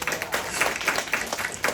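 A church congregation claps along in a steady, rhythmic beat during a Sunday worship service, the sound filling a room with broad, fairly loud hand claps and no one talking.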